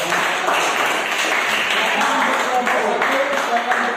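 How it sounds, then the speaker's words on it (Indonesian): A classroom audience of students applauds after a group presentation, with a dense, steady wash of clapping lasting several seconds and voices mixed in. "Ya, kita berikan aplaus dulu"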